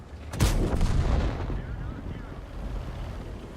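A tank cannon shot in World of Tanks from a Tier 7 Swedish medium, the Leo: one loud, sharp blast near the start that rolls into a long, rumbling decay with steady game noise behind it.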